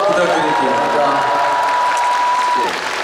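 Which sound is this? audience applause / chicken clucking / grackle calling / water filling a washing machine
audience applause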